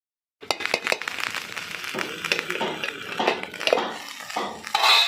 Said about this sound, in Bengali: একটু ঢাকনা চাপা দিয়ে দিচ্ছি